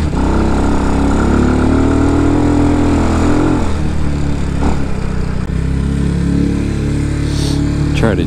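A 250cc RPS Condor motorcycle engine runs steadily at idle up close, a continuous loud low hum with slight unevenness and a few brief rises in pitch, with no talking over it.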